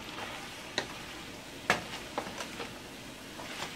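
Lambi (conch) meat browning in a hot pan: a steady close sizzle with scattered soft stirring clicks and taps of a utensil against the pan, no talking.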